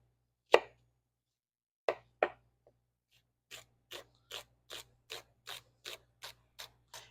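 A knife cutting food on a cutting board, a few sharp separate chops followed by a steady run of about ten rhythmic mincing strokes, close and fairly quiet with no talking.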